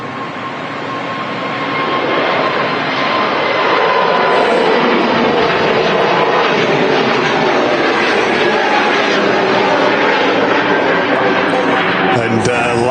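Aircraft engines at Manchester Airport spooling up in a short, modest rev, a broad loud roar swelling over the first couple of seconds and then holding steady, heard from outdoors at a distance.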